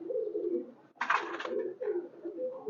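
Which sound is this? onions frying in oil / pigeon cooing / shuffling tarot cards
pigeon cooing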